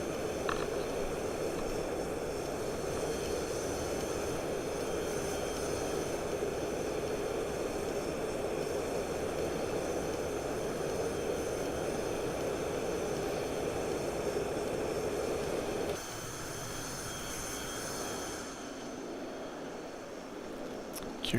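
An aircraft engine drones in a DCS flight simulator game as the plane lines up on final approach to a runway, a steady, even roar that drops slightly in level near the end, with no talking.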